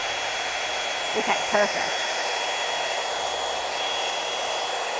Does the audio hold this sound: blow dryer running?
yes